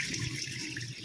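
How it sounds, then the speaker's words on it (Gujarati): Chana dal being washed under running water, a steady close rush and splash of water in a sink or vessel with slight swirling, no voices. "ચણાની દાળ સારી રીતે 2-3 પાણીથી વોશ કરી લઈશું"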